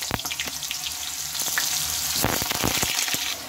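Potatoes go into hot oil tempered with black cumin seeds and set off a steady, close sizzle, with a few clattering stirs of a utensil against the pan near the end.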